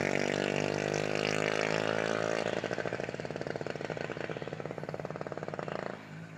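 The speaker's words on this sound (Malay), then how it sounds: "Motor kecil ni kalau pakai exhaust memang bising lah, bunyi tak sedap." A small motorbike with a loud aftermarket exhaust runs nearby, a steady buzzing drone that breaks into a rapid pulsing rasp before dropping off near the end.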